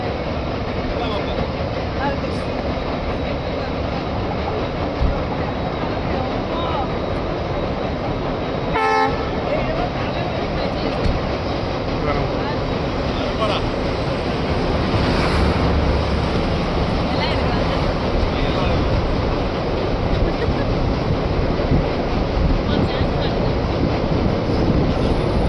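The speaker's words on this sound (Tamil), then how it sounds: "அந்த ஏர்லி மார்னிங் டைமில் வந்து அந்த ட்ரெயின் வந்து பிரிட்ஜில் கிராஸ் ஆகுது." An early-morning Trichy to Rameswaram express train crosses the bridge, a continuous loud rumble of wheels on rails with a brief horn toot midway, voices talking over the din.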